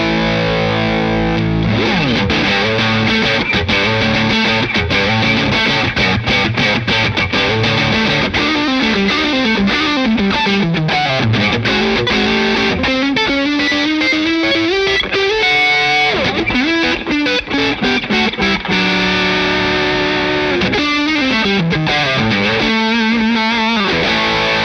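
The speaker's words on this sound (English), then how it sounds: "that's what happens when you use a compressor in front of a boost or a distortion pedal" Electric guitar on the humbucker pickup, run through a compressor pedal into a distortion pedal, playing loud, sustained, saturated riffs and sliding bends for a long stretch with no talking.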